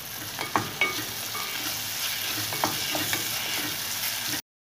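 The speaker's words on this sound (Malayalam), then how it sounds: "തക്കാളി ഇട്ട് കൊടുക്കാം" Chopped tomatoes sizzle in a pan with onion, ginger and green chilli for a fish head curry, a steady close frying hiss with a few spoon scrapes and knocks early on, no talking.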